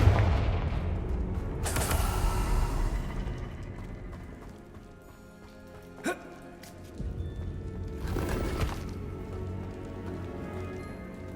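Confringo blasting spells going off in Hogwarts Legacy, heavy booming explosions with rumbling tails, one strong blast early, a sharp crack midway and another burst later, over game background noise with no speech.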